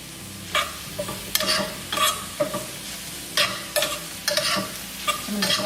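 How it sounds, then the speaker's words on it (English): Mushrooms stirred in a hot pan with a spoon, producing repeated scraping strokes over a steady sizzle of frying, close and fairly loud with no talking. "So all the mushrooms are in, just mixing it."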